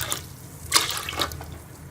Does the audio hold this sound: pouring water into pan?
yes